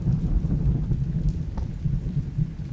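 Steady rain and rolling thunder fill a thunderstorm in the tavern-management game Travellers Rest, a continuous low rumble under hissing rainfall, with no voices.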